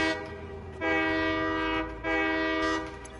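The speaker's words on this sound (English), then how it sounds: "Apparently there's a rare chance that when you honk the horn, it does like a steam whistle." A locomotive horn in the factory-building video game Satisfactory, sounding like an old steam whistle: two long, loud tonal blasts with a brief gap, over a low rumble, with no talk.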